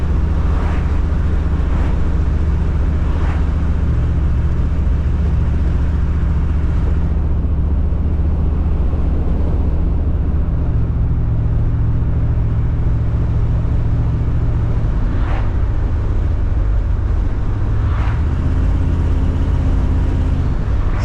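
A 1977 Chevrolet Suburban drives on the road with a continuous low engine drone and rumble, shifting pitch as it changes gear, with wind and road noise around it and no talk.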